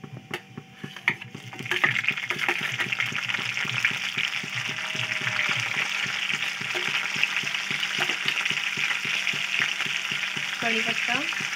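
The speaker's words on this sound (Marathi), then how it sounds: "जिरा आपलं छान झालेलं आहे, त्यामध्येच आपल्याला हिरवी मिरची घालून घ्यायची आहे।" Cumin seeds and green chillies fry in hot oil for sabudana khichdi, a steady close sizzle and crackle with occasional stirring clicks and scrapes, rising after a quieter start.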